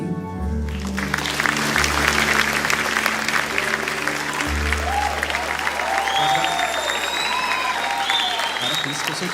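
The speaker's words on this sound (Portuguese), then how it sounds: "Aplauda o Senhor, amém." A church congregation applauds loudly and steadily during a youth worship service, with organ or keyboard chords and voices sounding beneath the clapping.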